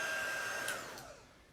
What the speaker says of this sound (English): I know it's the cutest little dryer ever.